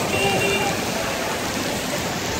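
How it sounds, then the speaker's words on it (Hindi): Heavy storm rain in Nagpur pours down in a dense, steady hiss, loud and unbroken throughout, with a voice faintly audible beneath it. "और इसी तरीके से बारिश रही"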